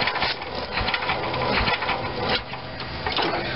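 A Delco Remy 12-volt starter generator turning over on its belt, with the belt slipping slightly, gives a steady mechanical whir with rhythmic knocks and ticks, close and fairly loud with no voices.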